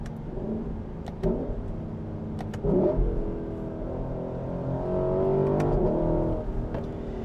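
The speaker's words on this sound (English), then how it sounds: "all that V8 noise, it makes for just a fabulous experience" A Lexus LC 500 Convertible V8 engine revs and growls continuously in sport mode, rising in pitch through several manual gear changes with a deep, throaty exhaust note up close.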